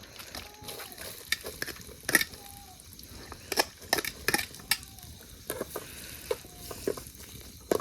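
Onion frying in a hot kadai gives a faint, low sizzle, with scattered clinks and scrapes of a utensil against the pan, quiet and intermittent throughout.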